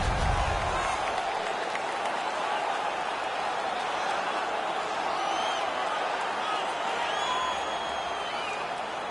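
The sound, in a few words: crowd cheering after a fight in the NHL 17 video game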